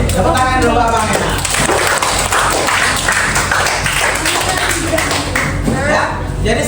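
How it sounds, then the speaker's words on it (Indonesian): Audience applause in an open class on artificial intelligence, a steady wash of clapping from a roomful of people that runs the whole stretch at close range, with a voice talking over it. "tepuk tangan dulu abang ya"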